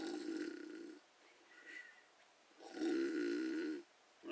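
A man imitating snoring with his voice, two long rasping snore-like breaths separated by a quieter gap, close and loud.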